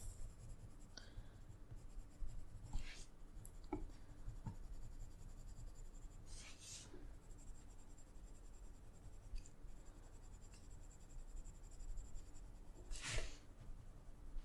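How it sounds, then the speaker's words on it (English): Polychromos coloured pencil scratches steadily over paper with medium-firm pressure, a soft continuous close-up scraping with a few sharper strokes standing out, no voices. "I might use a white pencil."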